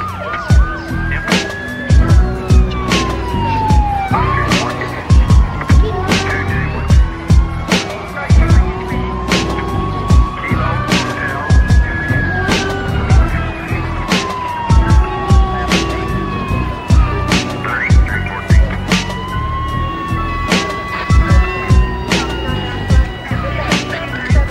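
Sirens of an ambulance and police car wail and sweep up and down over a pounding rap beat with regular heavy kicks, loud and continuous throughout.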